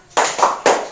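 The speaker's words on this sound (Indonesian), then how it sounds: "Bisa tepuk semangat Bu?" A group claps out a rhythmic spirit clap during a social assistance training session, three sharp, close hand claps in quick succession with brief gaps between them.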